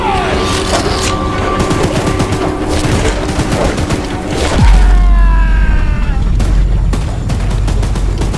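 A mounted gun in the video game Choo-Choo Charles fires at Charles in loud, sustained rapid bursts, with a heavy boom partway through and rattling gunfire continuing afterward.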